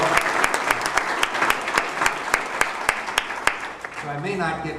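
Applause from an audience at a campaign town hall in Gilford, New Hampshire, a dense, steady wash of many hands clapping that fades near the end as a voice begins speaking.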